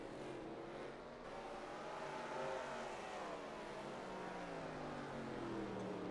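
Stock cars racing in a NASCAR-style video game with lapped traffic: a steady, dense engine drone with rising and falling pitch as cars pass, loud throughout with no voices.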